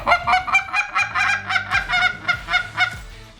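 A hunter's handheld goose call, blown with hand positioning opened up so the call breathes, gives a rapid series of about a dozen loud, close honks in steady rhythm, with no talking.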